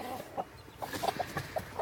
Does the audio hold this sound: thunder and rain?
no